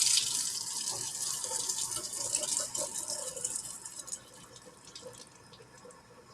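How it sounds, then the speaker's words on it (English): Water poured into a glass jar half filled with vegetable oil, a faint, steady splashing trickle that gradually tapers off, alone without talk. "And I'll put a little bit of water in the other half."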